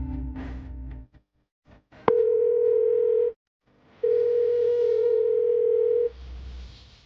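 Telephone dial tone heard while placing a call, two long steady hums separated by a short silence, with brief clicks and handling noise before them and no speech.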